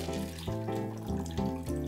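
Melon cocktail strained from a shaker into a tall glass of fresh ice, a close, steady pouring trickle with a few gurgling pulses over about two seconds, no voices.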